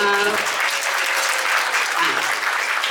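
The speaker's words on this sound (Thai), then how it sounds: "a big round of applause please" Wedding guests at a hotel reception applaud a blessing video from the groom's parents, a dense, steady wash of clapping filling the whole stretch, with a low voice briefly audible at the start.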